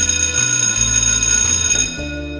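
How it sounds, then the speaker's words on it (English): A bell rings steadily and loudly for about two seconds, a dense metallic clang with sustained bright overtones that shifts slightly near the end, with no voices. "The bell does not ring until he is ready for it to ring."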